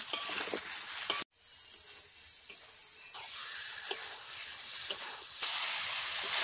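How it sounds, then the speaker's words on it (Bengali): Sweet pumpkin pieces fry with spices in a covered pan, giving a loud, continuous steamy hiss and sizzle with one brief sharp dropout early on. "ঢাকা দিয়ে দিয়ে কুমড়োগুলো মশলার সঙ্গে ভালো করে ভেজে নিলাম।"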